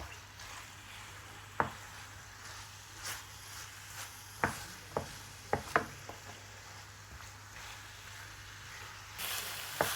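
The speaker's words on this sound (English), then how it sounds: "Introduce the spiced chicken and fry for 5 minutes until the chicken is seared well" Spiced chicken frying in a pan, with a steady low sizzle running throughout, broken by a few sharp clicks and taps of a utensil against the pan and a brief rise in hiss near the end.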